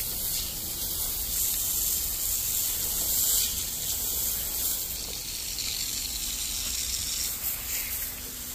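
Water running steadily while hands are washed after a well pump change, a constant rushing hiss with small fluctuations and no talking.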